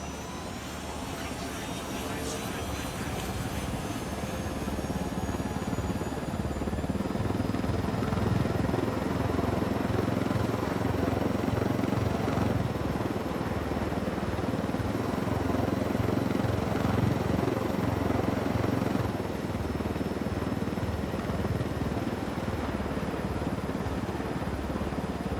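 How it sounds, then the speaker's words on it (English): A helicopter in Ghost Recon Wildlands drones steadily throughout, its dense rotor and engine roar loud and unbroken as if heard from inside the cockpit. "We can leave the chopper here and the rebels will pick it up."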